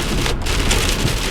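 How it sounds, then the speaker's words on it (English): Heavy rain falls outside a house, a loud, unbroken wash of spatter and hiss with a low rumbling undertone, close and steady with no speech. "Hope the rain slows down even more to make it easier to get the stuff into the house"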